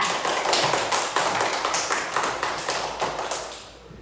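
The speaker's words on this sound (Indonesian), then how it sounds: "tepuk tangan luar biasa" Classroom applause from primary pupils at SDN 2 Landih: a quick run of sharp, closely spaced claps from a small group, loud at first and tapering off to quiet over about four seconds.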